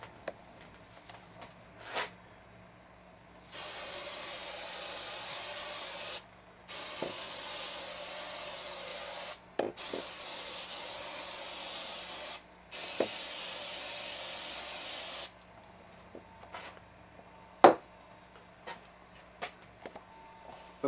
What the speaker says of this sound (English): now I'm just going to spray adhesive onto the 4 strips.